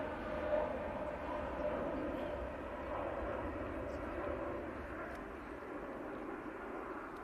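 A TUI airliner taking off at Manchester Airport: a steady, fairly faint jet roar heard from a distance, continuous with no distinct peaks, while someone may be talking under it.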